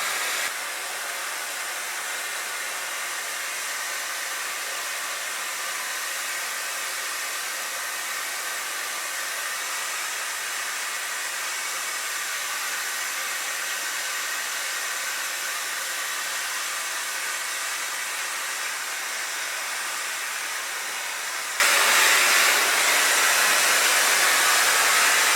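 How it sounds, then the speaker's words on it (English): A hair dryer blows hair with a steady, even whoosh for over twenty seconds, then jumps to a louder, harsher rush near the end; no talking. "But so far blow drying."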